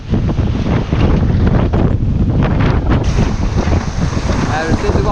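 Strong wind of 17-18 knots buffets the microphone aboard a Mini Transat sailboat at sea, loud and roaring, with splashing waves and hull noise throughout.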